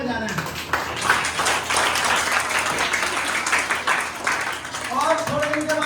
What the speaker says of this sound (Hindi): तो उन सबके लिए एक बार तालियां बजाना है